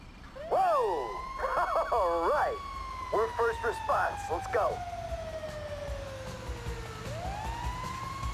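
A wailing emergency vehicle siren in GTA 5 cycles through rising and falling whoops and yelps, close and loud, over a low engine hum, then ends in a long descending tone before a fresh rising wail begins.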